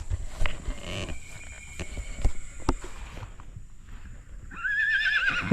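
A young male horse on a rice-farm setting, with clip-clop hoof knocks and scattered farm noises, followed by a rising, wavering whinny near the end, fairly close and without speech.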